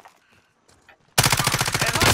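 A loud, dense burst of rapid gunfire in Call of Duty Modern Warfare breaks abruptly out of near silence and faint game sounds, continuing steadily to the end.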